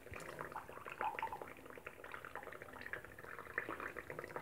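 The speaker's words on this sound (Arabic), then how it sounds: "الآن أضع ماء قلوي صناعي" Artificial alkaline water poured into a container, heard as a faint, continuous bubbling trickle with small splashy sputters.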